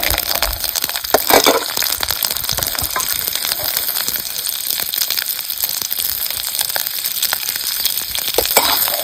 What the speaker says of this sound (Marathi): ह्या तेलात आपण हे लसूण चांगला भाजून घेणार